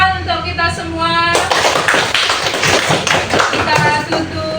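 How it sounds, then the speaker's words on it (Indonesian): Pupils in an Islamic primary-school classroom burst into dense, lively applause right after a voice speaks, with rapid overlapping claps continuing for several seconds while voices murmur underneath. "Tepuk tangan untuk kita semua."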